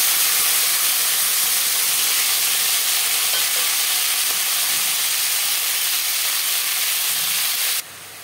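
Cut yardlong beans fry with cumin seeds in a hot pan, giving a loud, steady sizzle and hiss with faint stirring scrapes throughout, ending abruptly.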